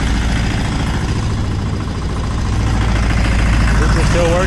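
A homemade motor sailor's boat engine runs steadily at close range, a continuous low rumbling drone with constant loudness throughout and no talk over it.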